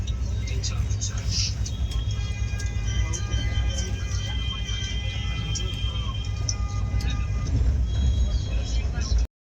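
Humsafar Express running between Asansol and Bardhaman, heard from aboard as a constant low rumble with rattling carriage noise and faint high squeals, voices talking over it.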